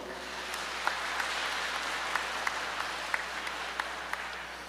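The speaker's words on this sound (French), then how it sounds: "Un gros applaudissement." Steady applause from a crowd at a church solemnity service, a dense wash of many hands clapping at an even level with a few sharper claps standing out.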